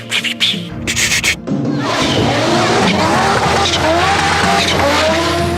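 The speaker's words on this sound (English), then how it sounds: "The second thing is the sound of a 5-cylinder engine." Audi five-cylinder racing engine at full throttle, a loud continuous snarling roar with rising and falling revs and tyre squeal, wastegates fluttering when lifting off the gas, preceded by brief bursts.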